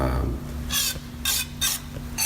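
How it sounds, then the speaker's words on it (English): Three short bursts of aerosol degreaser hissing into a PCV pipe on a 2000 Saturn SL2, each under a second, with a low steady hum running underneath throughout. "I'm going to quickly spray it down into the pipe"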